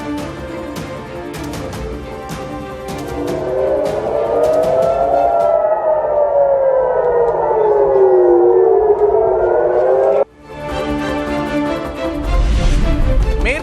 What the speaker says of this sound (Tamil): டெல் அவீவ், ஜெருசலேம் உள்ளிட்ட நகரங்களில் சைரன் ஒலி எழுப்பி மக்களை எச்சரிக்கும் இஸ்ரேல் அரசு